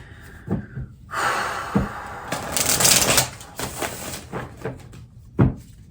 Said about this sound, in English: Opening up a new deck of cards.